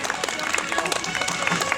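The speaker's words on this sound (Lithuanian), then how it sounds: "Aplodismentai." Brief burst of crowd applause at an outdoor strongman sports festival, scattered clapping from spectators mixed with chatter and a voice talking over it.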